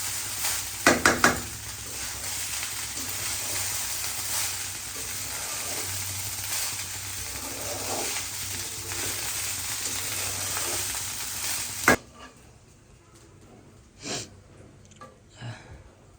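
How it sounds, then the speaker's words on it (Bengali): Rice frying in a pan in a home kitchen gives a steady broadband sizzle for about twelve seconds, broken by a few sharp scraping stirs near the start. After that it drops to quiet, with scattered faint clinks. "ভাত যত ভাজা যাবে তত স্বাদ বেশি হয়।"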